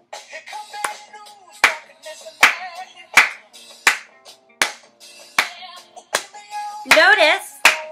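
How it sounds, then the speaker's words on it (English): Hands clapping a steady beat, about a dozen sharp, evenly spaced claps close up, with a short burst of something else near the end. "Good, now let's clap again."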